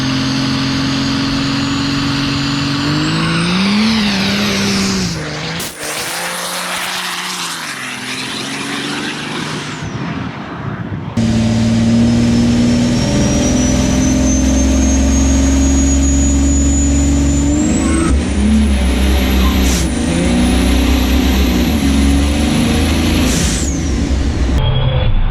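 A heavy Cummins diesel truck engine with a hood stack exhaust cutout roars continuously, pitch rising and falling as it revs and accelerates, with a brief break partway before a louder, sustained stretch.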